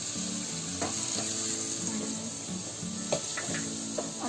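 Vegetables sizzle in a pan with a continuous bright hiss, broken by occasional scraping and tapping as a utensil stirs them.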